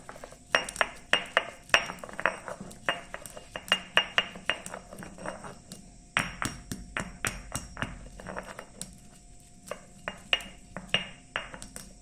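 Steady rhythmic pounding of urad and moong lentils in a stone mortar, sharp knocking strikes repeating in quick bursts with short pauses, close and fairly loud, no talking.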